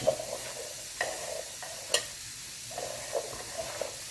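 Bitter gourd being stir-fried in a pan with chilli powder for a fry, a soft steady sizzle broken by several sharp scrapes and clacks of the spatula against the pan, with no one talking.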